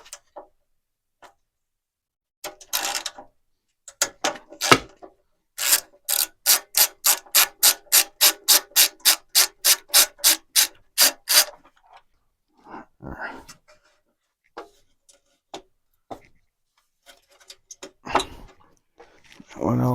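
A hand ratchet loosens a 10 mm bolt on a cheap generator's cover, giving a quick, evenly spaced run of sharp close clicks for several seconds, with brief talk and handling noises before and after.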